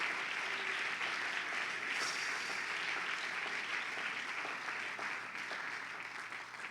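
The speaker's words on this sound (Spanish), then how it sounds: "que le pueda dar un fuerte aplauso al Rey de Reyes y Señor de Señores" Applause from an audience at a church youth conference, a steady, dense wash of clapping and crowd noise that holds throughout without a break and eases slightly at the end.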